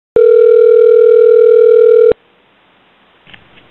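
A steady telephone dial tone sounds loud and alone for about two seconds, then cuts off abruptly, followed by near silence and a faint rustle.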